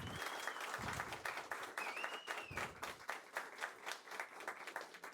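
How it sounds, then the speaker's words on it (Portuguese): An audience at a business talk event applauds Caetano with brisk, steady clapping from a modest crowd, fairly close and continuous throughout, with a faint whistle-like tone rising briefly above it. "Quero pedir uma forte salva de palmas para o Caetano."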